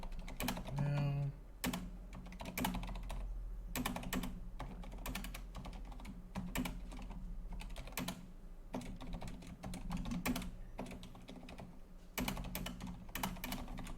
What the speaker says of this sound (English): I'm just typing something onto Twitter.